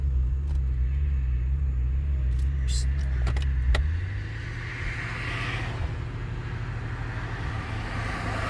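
Interior of a car driving slowly at neighborhood speed, a steady low engine rumble that drops in pitch after a shift midway, with some light rattles and clicks.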